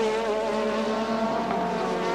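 Formula 1 race cars from 1987, including a yellow Lotus Honda, racing at Hockenheim. A loud, steady, high-pitched engine howl holds without a break, with no speech over it.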